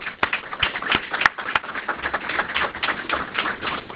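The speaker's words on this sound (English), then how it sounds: "Give them a round of applause." Audience applause at a military awards ceremony for Army company command teams, a loose patter of claps with a few sharp, louder hits standing out, moderately near and fairly thin in density.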